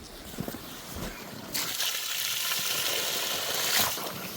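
Water gushes from a newly replaced pump in a 140-metre borehole well in Vinnytsia region, starting as faint trickles and splashes and then swelling into a steady, hissing flow.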